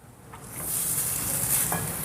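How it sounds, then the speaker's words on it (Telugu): Cooked rice is stirred and mixed with peanut powder in a pan just off the stove, giving a soft, continuous scraping and faint sizzling hiss close by, with no voices. "ఇప్పుడు స్టవ్ ఆఫ్ చేసుకొని రైస్ని బాగా కలుపుకుందాం"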